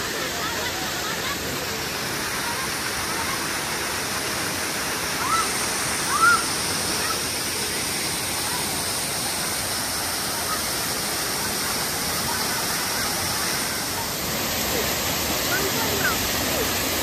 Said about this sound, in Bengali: ওই সামনে দেখা যাচ্ছে জল বয়ে যাচ্ছে